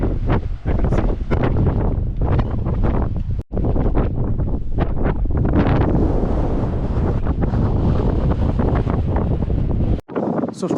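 Strong gusty wind roars across the microphone at the steep edge of a sea cliff near a lighthouse on the UK coast, loud and continuous, with rough waves faintly beneath.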